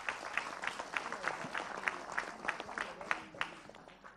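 Audience applause for a preacher at an Islamic religious talk, a steady patter of many hands clapping at moderate distance, fairly faint, with some voices mixed in.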